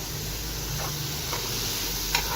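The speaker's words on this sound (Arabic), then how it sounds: "لسه هنحط الفلفل الاخضر ده اخر حاجه معانا. هنديله تقليبه خفيفه كده" Green bell pepper being stirred into mixed vegetables in a pan gives a steady, soft sizzle with a few faint scraping strokes at close range.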